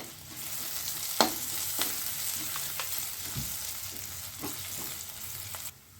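Steady sizzling of ginger frying in a hot pan, with a few sharp clicks and scrapes from stirring. No voices.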